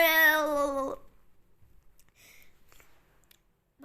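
A single drawn-out cat meow, loud and close, fades into near silence broken by a few soft rustles and faint clicks.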